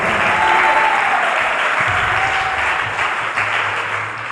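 A church congregation applauding together, loud, dense and sustained clapping close by throughout, with a faint tonal hum in the background.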